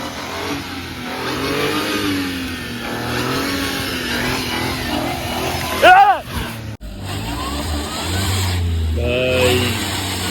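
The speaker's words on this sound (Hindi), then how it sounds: "भाई ने गाड़ी फंसा दी भाई, देखिए।" A car stuck in deep snow on the road to Solang Valley revs its engine hard, loud and close, in sustained rising and falling surges with a sharp burst near the end, while people talk over it.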